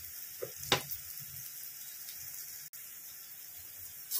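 Sliced potatoes frying in a pan of oil for crispy chips, a soft steady sizzle throughout, broken by a sharp clatter near the start, a brief click midway and another knock at the end.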